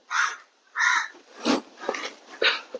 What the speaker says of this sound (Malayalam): രാവിലെ തുടങ്ങിയിരിക്കണ ആ കാക്കച്ചി ഇങ്ങനെ ഓരോ സൗണ്ട് ഉണ്ടാക്കല്